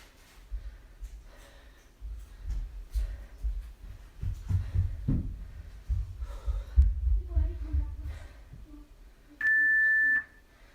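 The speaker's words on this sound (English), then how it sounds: "That's our 30-second timer." Exercise timer signalling the end of a 30-second V-sit interval with one sustained, high electronic beep near the end, after a stretch of shuffling movement and breathing.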